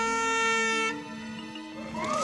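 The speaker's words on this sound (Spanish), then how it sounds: "¡Atentos a la bocina!" Air horn blast on a game show, a loud sustained tone that cuts off within a second, followed by a quieter stretch and then a rising swell of crowd noise.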